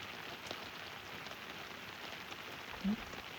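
Heavy rain pours steadily across an open sugarcane farm with hills in view, a continuous soft hiss at low level with no voices.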